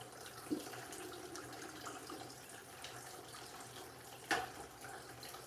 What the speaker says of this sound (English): I just want to decant some of that top water there